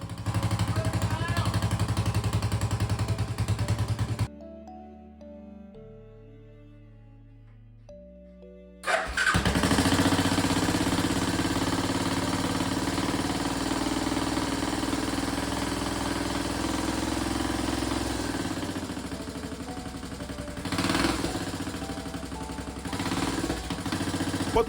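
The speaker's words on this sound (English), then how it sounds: "The engine springs to life and it's running pretty well, but I must admit, it's loud as bloody hell." A Suzuki Savage chopper motorcycle cranks and fires up after a brief gap, then runs loud and steady with a rough, throbbing idle and small revs, the engine noise dominating close to the microphone.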